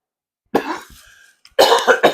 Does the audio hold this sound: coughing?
yes